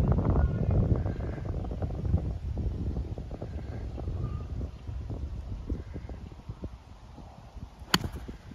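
Wind blowing on an outdoor golf course, heard as steady rumbling gusts buffeting the microphone, loudest at the start and easing slightly, with a brief sharp click near the end.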